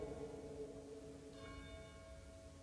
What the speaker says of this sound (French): Ah, on a les cloches, mais je vais réussir à parler pendant.